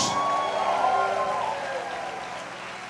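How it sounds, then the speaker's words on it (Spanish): A church congregation claps together during a worship service, a dense wash of applause that starts full and slowly fades over a few seconds. "Alguien aplauda la gloria de Dios."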